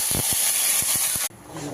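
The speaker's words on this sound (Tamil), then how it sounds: "எண்ணெய் காஞ்சோடனே கடுகை போட்டுடலாம்." Mustard seeds crackle and hiss in hot oil, a dense steady sizzle with several sharp pops, cutting off abruptly near the end to near quiet, with no voice over it.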